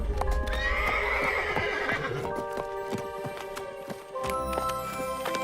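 Galloping horse for a horror story, hoofbeats clip-clopping steadily at close range with a whinny near the start and no talk over it.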